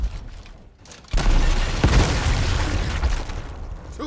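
Gunfire in the Gears Tactics video game: a sudden heavy burst of shots and a boom, loud and dense for about two seconds, then tapering off into a fading rumble.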